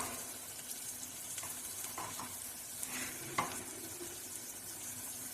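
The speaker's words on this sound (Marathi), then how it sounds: "छान परतून घेऊया" Bottle gourd curry with dal sautéing in a pan, a faint steady sizzle with soft scattered scraping stirs from a utensil, quiet and without any talking.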